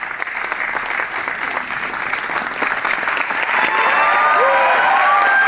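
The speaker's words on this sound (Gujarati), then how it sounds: "તેઓ તેજલ વ્યાસ જોરદાર તાળીઓથી સ્વાગત કરીએ" An audience at a Gujarati theatre event applauds to welcome Tejal Vyas, a sustained wave of clapping that swells louder toward the end, with a voice briefly heard over it.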